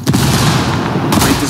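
A frag grenade detonating in the video game Ghost Recon Wildlands, a loud, close blast with a booming rumble, followed by a second burst about a second later.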